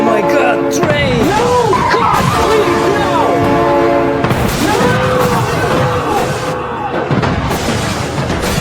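A train in the BeamNG.drive game rumbles past loudly with a sustained horn blast and heavy clanking. Excited voices talk over the noise throughout.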